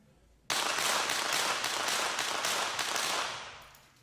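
A rapid string of pistol shots at a 25m rapid fire pistol competition, several quick reports merged into a sustained crackling burst lasting about three seconds, heard from a distance and fading out.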